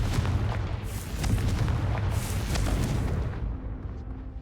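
A Confringo blasting spell cast in Hogwarts Legacy, heard as a sustained rumbling roar of fiery bursts and booms that rolls on for several seconds before easing off.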